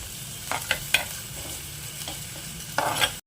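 Finely chopped shallots sauté in oil for a Kerala-style prawn curry, giving a low, steady sizzle broken by a few sharp spatula taps and scrapes against the pan.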